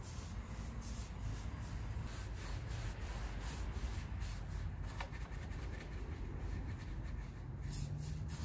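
A 1.5 inch paintbrush works paint into a tight spot with long, steady strokes, giving a continuous close brushing and rubbing hiss with no talk.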